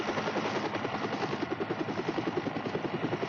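A helicopter's rotor beats steadily and loudly near a mountain lake, the Laguna Negra, its rhythmic chopping pulse and engine drone continuous throughout without voices.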